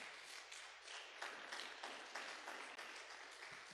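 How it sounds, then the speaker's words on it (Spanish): A church congregation claps hands steadily and continuously in worship, a dense patter of applause filling the room with no voices rising above it. "Dale palmas al Señor,"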